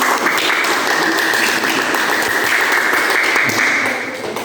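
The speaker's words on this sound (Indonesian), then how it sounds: "tepuk tangan berikan aplaus" A classroom audience gives steady, dense applause, loud and continuous, fading slightly at the end.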